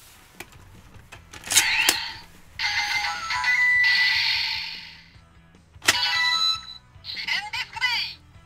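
A DX Gokaiger toy ejecting a Shinken disc, giving off bright electronic chimes and jingles in several bursts along with mechanical clicks. A person talks between the sounds.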